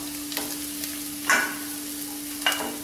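Grated coconut and cashews roasting in a pan over a low flame: a faint dry hiss with a few brief scraping stirs, steady and close, no voices.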